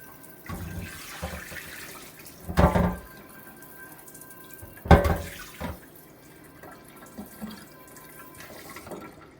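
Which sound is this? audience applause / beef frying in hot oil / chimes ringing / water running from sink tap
water running from sink tap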